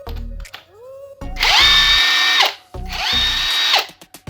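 A J.LD 48V cordless impact wrench driving a bolt with a 17 mm socket: two close, loud bursts of whirring hammering, each with a short start-up whine and a stop, separated by a pause.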